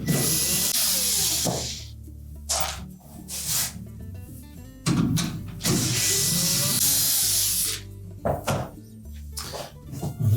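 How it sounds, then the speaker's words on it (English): Metal rear access panel being removed from a Whirlpool refrigerator: scraping, clanking and rattling handling noises in bursts, with brief pauses between, fairly close and loud, no talking. "So just remove this access panel at the back."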